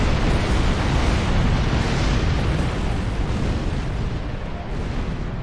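A battleship blows up in Star Trek Online, a loud, sustained explosive roar that fills the whole stretch and eases off slightly toward the end, with no voices over it.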